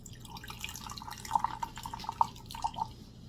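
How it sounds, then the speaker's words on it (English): Hard Mountain Dew Live Wire is poured into a glass, heard as faint, close trickling and dripping with small splashes and fizz in a quiet room. "We'll pour."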